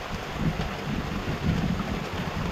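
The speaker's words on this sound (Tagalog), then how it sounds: "Lakas ang ulan." Dense, continuous downpour with a low rumbling wash underneath, steady and loud with no voices.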